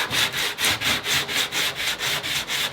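Steady back-and-forth hand sanding of body filler on a 1966 Buick Riviera, each stroke a raspy scratch in an even rhythm of roughly four per second, close and continuous with no talking.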